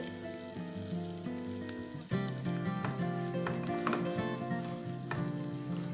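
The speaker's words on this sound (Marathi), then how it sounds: "मसाला चांगला फ्राय झालाय।" Masala sizzles steadily in a hot pan, a crackling fry that grows louder when stirred, with occasional scraping clicks.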